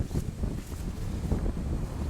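Gusty wind buffets the microphone outdoors at beehives, a rough low rumble that rises and falls in short bursts throughout, with no voices.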